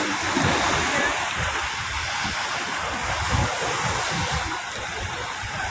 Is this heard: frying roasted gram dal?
no